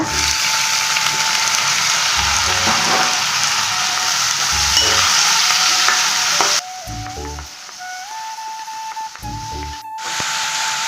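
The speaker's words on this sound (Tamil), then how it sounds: "இப்போ நம்ம இந்த தக்காளியும் குடமிளகாவும் சேர்த்து வதக்கலாங்க" Tomato and capsicum sautéing with onions in a hot pan for a paneer capsicum gravy, a loud, steady sizzle with scraping stirs, easing slightly after a few seconds while the frying carries on.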